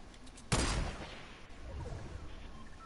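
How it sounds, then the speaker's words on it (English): Gunfire in Fortnite: one sharp, loud shot that decays over about a second, followed by fainter rumbling noise, with no other shots close by. "Was somebody shooting, or is that you guys?"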